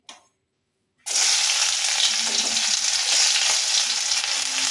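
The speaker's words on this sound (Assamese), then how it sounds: "পিঁয়াজখিনি দি ভাজি লওঁ" Onions frying in hot oil that was just used to half-fry eggs, a steady loud sizzle starting abruptly after a second of silence and continuing evenly without talk.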